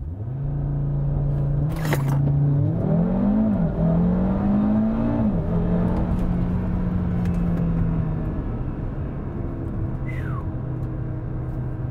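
An overclocked car pulls hard through a 0 to 60 acceleration test at 63 degrees Fahrenheit, its engine note climbing loudly, dropping briefly at a gear shift, then rising again before settling into a steady drone.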